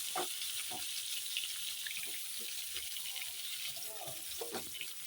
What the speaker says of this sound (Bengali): অনেকগুলো বেগুন তাও একবারেই ভেজে নেব